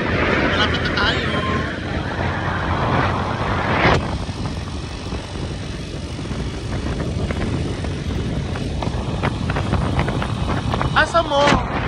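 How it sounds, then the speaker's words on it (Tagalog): Strong wind buffets an outdoor microphone in sustained, rumbling gusts that fill the whole stretch, loud and close, with brief snatches of voices underneath. "Medyo malakas yung hangin."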